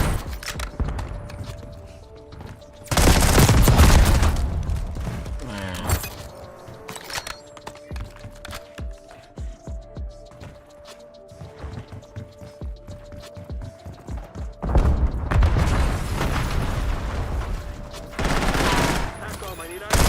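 Video game gunfire with loud sustained volleys and machine-gun bursts at the start and the end, and scattered single shots and footsteps between them, while someone talks over the action.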